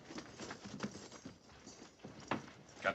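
Cavalry horses of a soldiers' detail halting and standing outside a ranch house clop softly on the ground, a faint irregular patter of hooves with rustling in the background.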